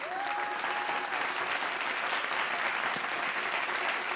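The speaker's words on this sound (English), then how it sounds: "Can we please give our top 10 another round of applause?" Steady, sustained audience applause for the top 10 candidates at a beauty pageant, an even wash of many hands clapping at constant volume from a large hall crowd, with a few scattered cheers in it.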